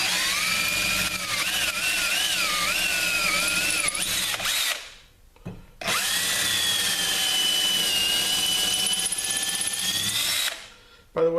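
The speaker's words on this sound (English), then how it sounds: "So let's drill these holes out." A power drill runs steadily at high speed, cutting into metal bar stock, pauses briefly, then drills again for several more seconds before stopping.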